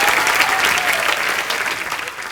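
Loud, continuous applause from a studio audience on a comedy show stage welcoming actor Paresh Rawal, a thick even wash of clapping that tapers slightly toward the end.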